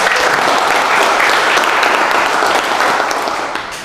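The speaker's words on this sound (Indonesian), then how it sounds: "Tepuk tangan buat Roy" Audience applause for a student at a formal certification lecture event, a steady dense wash of clapping at close range that holds level and then begins to fade toward the end.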